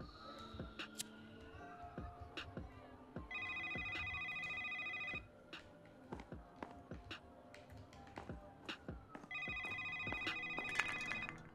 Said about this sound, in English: Can you answer the phone?